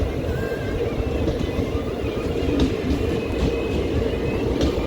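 Madurai Intercity Express train stopped at Chatrapatti station, a steady low rumble and hum of the standing train with faint station ambience, continuous and fairly loud, no talking.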